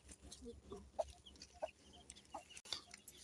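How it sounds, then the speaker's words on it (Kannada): Chicks forage while grazing, making a few soft, scattered clucks and peeps at a distance over faint outdoor background noise, with no voices. "ನಮ್ಮ ಕೋಳಿ ಮರಿಗಳು ಇಲ್ಲಿ ಮೇಯ್ತಾ ಇದ್ದಾರೆ ನೋಡಿ"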